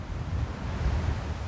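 Strong sea wind and crashing surf on the coast at Kitty Hawk, a steady roaring rush of waves with blustery wind buffeting close to the microphone, no voices.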